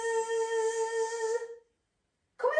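A voice makes a steady, buzzy "zzz" sound imitating a bee for about a second and a half, then pauses before another sound begins.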